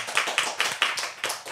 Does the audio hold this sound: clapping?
yes